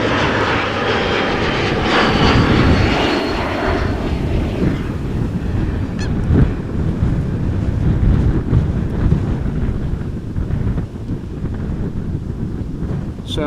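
A Hawker business jet on approach along the glide slope toward Amsterdam Schiphol gives a steady, broad engine roar that swells and lingers, buffeted by wind noise on the microphone.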